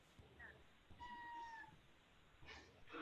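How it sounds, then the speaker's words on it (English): A cat meows a few times in the background of an online board meeting, faint and distant, with a short chirp first and then a longer drawn-out meow, while people talk quietly. "I heard a cat."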